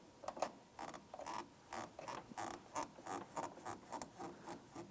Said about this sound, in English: Just using these pliers to try and spin that hose and break it free.